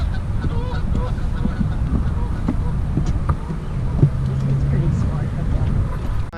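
Geese honk in a loud, close flock, repeated nasal calls overlapping against an outdoor background hum.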